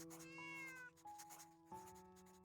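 A cartoon cat in the video game Little Witch in the Woods meows several times in clear, bright, close calls over a steady musical game background.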